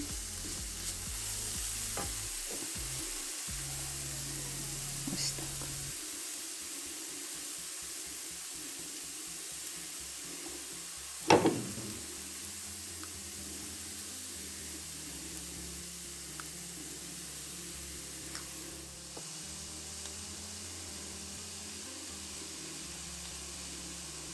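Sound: onion and carrot stewing in pan

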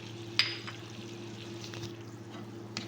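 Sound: ingredients sizzling in pan for biryani

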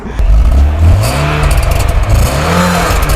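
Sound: Zhiguli 7 (2006) car engine revving

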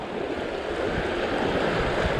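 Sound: river water flowing over stones during a crossing

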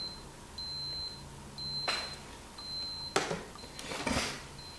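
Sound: Rodnik 3 Geiger counter counting quickly and alarming

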